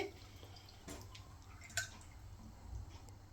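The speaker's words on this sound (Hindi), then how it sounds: "1 कप पानी डाल देंगे।" Water poured from a cup for sugar syrup, heard as faint close drips and splashes with a brief brighter splash midway, fairly quiet overall.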